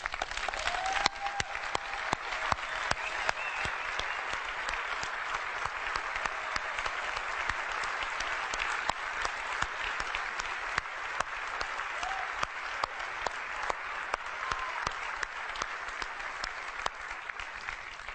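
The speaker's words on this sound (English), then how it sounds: "I'd like all the folks that worked on these products to stand up so we can give them a round of applause" Sustained applause from an audience at an Apple music event in Cupertino, honoring the product teams as they stand; dense, steady clapping continues evenly throughout with faint crowd noise beneath.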